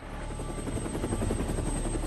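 Helicopter in flight with a dense, continuous rotor and engine roar and a rhythmic blade pulse, loud and steady throughout with no voices.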